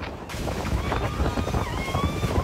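Strong wind from super typhoon Nando buffets Santa Maria, Ilocos Sur, a continuous roaring rush with gusty surges and microphone buffeting, loud and close throughout.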